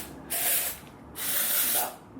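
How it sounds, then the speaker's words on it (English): Hairspray misted onto the hair roots from a few inches away, heard as two close, steady hissing bursts of about half a second each with a short pause between them. "first I'm gonna go in and spray my hair just at the root"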